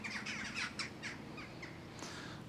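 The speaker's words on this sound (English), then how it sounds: "Crows are circling" Several crows caw and squawk overhead in a rough, uneven run of harsh calls at moderate distance, steady outdoor background noise beneath, no speech.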